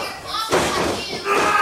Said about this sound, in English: slams him down with a picture-perfect body slam